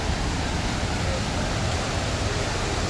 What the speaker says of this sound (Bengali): একদম পুরো ঝর্ণার কাছাকাছি চলে এসেছি আমরা